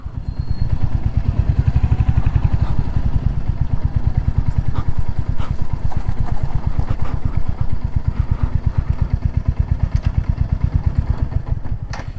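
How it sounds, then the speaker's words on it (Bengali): A motorcycle engine runs steadily and loud, a fast, even thumping putter throughout with some rattling clatter. "বাইকটা চেঞ্জ করা হয়েছে, রাহুল একবার আমারটা চালাচ্ছে, আমি ওরটা চালাচ্ছি।"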